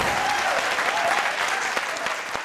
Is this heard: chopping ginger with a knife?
no